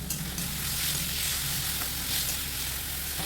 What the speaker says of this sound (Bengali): দিয়ে দেওয়ার পর খুব ভালোভাবে আলুর সাথে মিশিয়ে নিতে হবে, যতক্ষণ না পর্যন্ত পেঁয়াজের কাঁচা গন্ধ চলে যাচ্ছে।